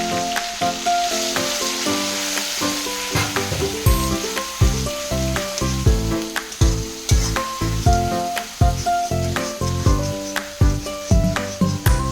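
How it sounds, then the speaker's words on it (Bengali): Onion paste sizzles and fries loudly in hot oil, with repeated scraping stir strokes of a spoon in the pan running steadily throughout, no talking. "তেলের উপর দিয়ে দেওয়ার পর এটা যতক্ষণ না গোল্ডেন ব্রাউন হয় ততক্ষণ আমি নাড়িয়ে নেব।"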